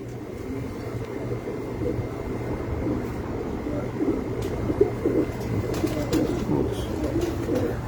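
Pigeons coo on a rooftop, soft and continuous murmuring over a steady low hum, with a few sharper flutters or clicks toward the end.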